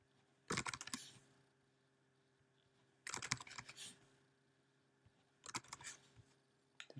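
Three separate bursts of quick typing on a computer keyboard, each a cluster of rapid clicks about a second long, separated by quiet pauses, close and fairly soft with no talking.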